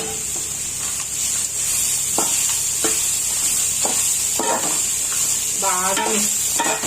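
Sweet corn fried rice tossed and stirred in a hot pan, a steady bright sizzle under a series of sharp spatula scrapes and clanks against the metal, close and loud with no talking.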